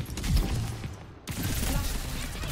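Rapid bursts of gunfire ring out in Overwatch 2 competitive play, dense and close, with a short lull partway through before firing resumes.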